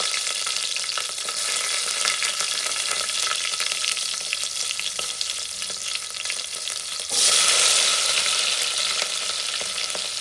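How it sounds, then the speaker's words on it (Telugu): Chopped green chillies and onions fry in a pan for a tomato and drumstick curry, a steady close sizzle with a hiss that swells louder near the end, no talk. "ఉల్లిపాయలు కొద్దిగా గౌన్ లాగా ఫ్రై అవ్వనివ్వాలి"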